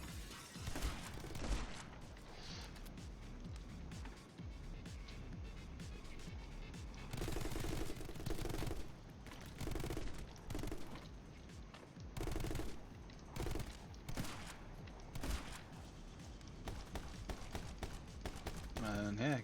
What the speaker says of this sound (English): Do I have shotgun shots?